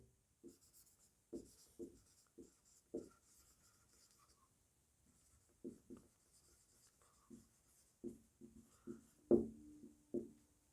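Chalk or marker writing on a board during a physics lesson on circular motion, a run of short scratchy strokes in irregular bursts with pauses, close and fairly quiet, with no talking.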